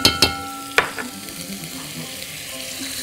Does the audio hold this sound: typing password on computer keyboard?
no